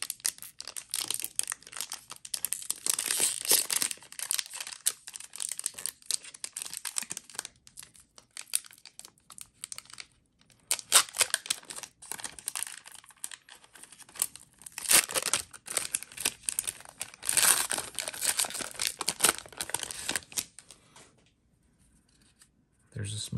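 A foil Lord of the Rings collector booster pack is torn open and its wrapper crinkled up close, in loud, scratchy bursts separated by brief pauses, with someone talking in between.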